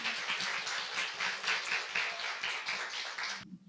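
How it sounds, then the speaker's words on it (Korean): An audience at a Korean film talk event claps in a steady, moderately distant burst of applause that cuts off abruptly near the end. "여러분 박수 부탁드립니다."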